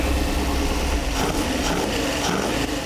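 A rebuilt bracket race engine assembled from repurposed parts runs steadily and loud, its drone uneven with slight hesitation, with no talking.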